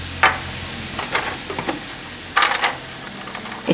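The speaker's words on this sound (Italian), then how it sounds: "Ho messo sul fuoco l'acqua per i conchiglioni, sta bollendo" A pot of salted water boiling on the stove for conchiglioni pasta, giving a soft, steady bubbling hiss with a few brighter splashy bursts, close by and with no voices.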